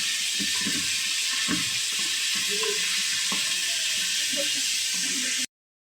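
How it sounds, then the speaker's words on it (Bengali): Free-range country chicken pieces fry in a pan for lentil soup, giving a steady loud sizzling hiss with occasional clinks and stirring knocks, then the sound cuts off abruptly near the end. "চিকেনটা পুরো ভাজা ভাজা হবে"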